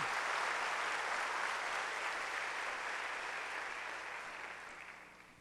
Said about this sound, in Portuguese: Pode aplaudi-las.